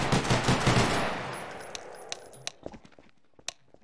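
Gunfire crackles during a Garry's Mod military roleplay session, starting with a loud rattling burst that fades into scattered clinks and sharp isolated shots.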